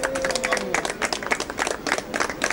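Audience clapping at a convention for a LEGO-style Bionicle fan community during a MOC challenge awards session, a moderate scattered round of hands at medium distance with a brief tonal sound early on.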